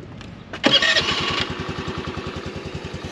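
A small Honda Navi motorcycle engine cranks and catches with a sudden burst, then settles into a steady, rapid putter at idle, close by and alone.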